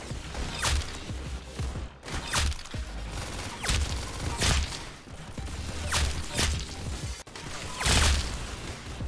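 Rapid bursts of gunfire ring out in the Roblox shooter Arsenal during a headshot-only match. Several loud, sharp volleys repeat at irregular intervals, each with a short crack and echo, and no voices are heard.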